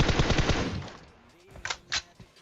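Automatic gunfire in the mobile battle royale game PUBG Mobile: a rapid, loud burst of shots lasting about a second, then fading, followed by a couple of quieter isolated shots.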